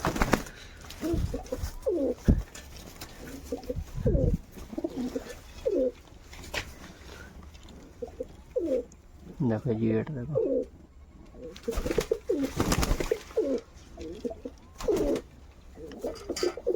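Pigeons coo in a loft of fancy breeds including Jacobins, soft rolling calls repeating throughout under a voice talking intermittently.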